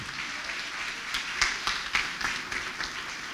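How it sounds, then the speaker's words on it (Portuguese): Congregation at an evangelical church service clapping in welcome for a young singer, a steady spread of hands building into sharper, stronger bursts, with no one speaking over it. "Vamos receber o Mateus com as palmas bem forte para Jesus."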